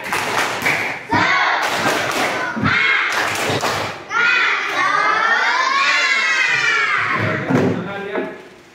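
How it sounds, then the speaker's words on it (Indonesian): Children in a classroom do a rhythmic spirit clap (tepuk semangat), with bursts of loud patterned clapping and thumps alternating with shouted group chanting, ending in a loud collective cheer. "Tepuk semangat."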